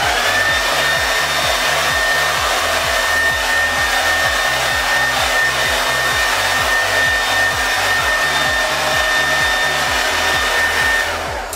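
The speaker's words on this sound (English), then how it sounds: "I like to put it on the hot setting with high power just because otherwise this takes forever." A hair dryer runs on its hot setting at high power, a loud, steady whoosh with a continuous whine that holds unbroken for the whole stretch, close to the ear with no talking over it.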